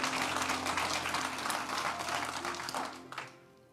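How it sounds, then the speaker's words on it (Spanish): A church congregation gives a burst of dense, steady applause that carries for a few seconds before dying away, with faint talk underneath. "Dele un aplauso fuerte a Cristo porque Él es bueno."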